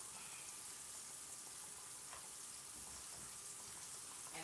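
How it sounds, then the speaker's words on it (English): Chicken strips fry in hot oil, giving off a faint, steady, even sizzle with no voices. "Now, we're going to let that fry up"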